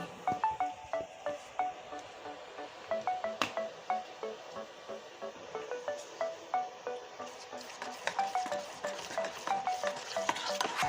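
Red food colouring being stirred into sweet bonde batter, heard as rapid rhythmic clicks and taps of a utensil against a bowl, repeating steadily and close up.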